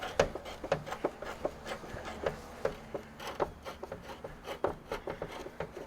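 Sandpaper worked by hand across the roof of a 1983 Kenworth cabover truck, giving close, steady rasping strokes in a repeated rhythm with no talking.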